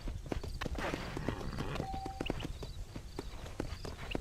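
Horse hooves clip-clopping at a walk in the video game Red Dead Redemption, a steady, moderately close rhythm of hoof strikes over quiet game ambience.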